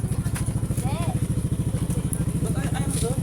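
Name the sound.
motorcycle engine running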